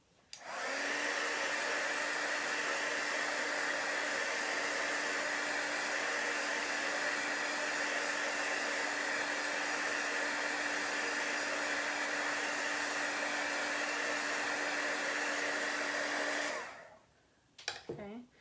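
A hair dryer blows steadily, close and loud, while drying chalk paint on a craft piece, a constant whir with a low hum that cuts off near the end, followed by a couple of small clicks.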